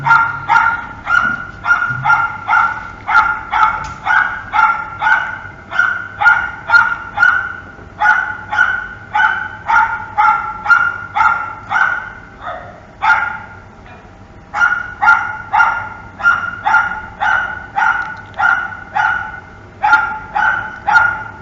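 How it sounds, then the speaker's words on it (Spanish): A large dog barks repeatedly in rhythmic bursts, close and loud, with a brief pause midway before the barking resumes. "Si ustedes sienten de repente ladridos, son de un perrito más o menos grande"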